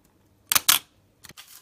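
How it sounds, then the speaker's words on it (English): An SLR film camera set to a one-second exposure fires: a sharp double clack as the mirror flips up and the shutter opens, then after a pause a second clatter as the shutter closes and the mirror drops back, close and crisp in a quiet room. "when you press the shutter, as you see, the mirror flies up, the shutter opens and shuts"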